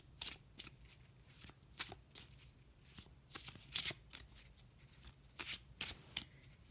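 Egyptian tarot cards being shuffled by hand in a quiet room, a string of crisp riffling bursts and soft slaps at an uneven rhythm, close and fairly quiet, with no talking.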